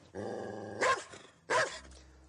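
A dog barks twice in quick, loud bursts, with low growling running beneath and between the barks, close by and with no talking over it.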